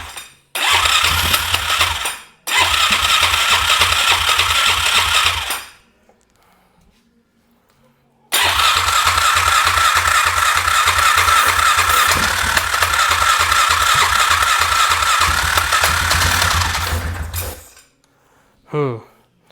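A 2001 Polaris Scrambler 500 2x4 ATV with a no-spark fault is cranked repeatedly, giving loud rattling starter bursts separated by short pauses, with a long final crank that ends in silence.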